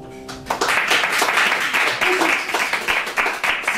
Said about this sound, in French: Si vous pensez qu'elle est coupable, applaudissez maintenant.